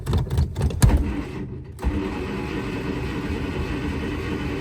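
A 1949 Studebaker Champion with bad brakes and a poor clutch, revived after twenty years, cranks through a few uneven bursts, then catches and settles into a steady, close engine idle.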